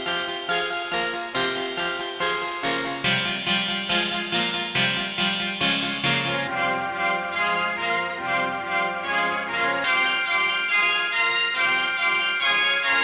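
A looped synth melody from the Polyscape Nova plugin's Brills preset plays with bright, rhythmic repeated plucked notes, steady and upfront with no voices.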